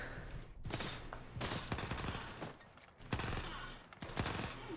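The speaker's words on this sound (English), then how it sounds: "I kind of like how fast it shoots, but I wish it had better base damage." A submachine gun fires in Stalker 2 in several rapid full-auto bursts separated by short pauses. The shots are loud and close, with no talking over them.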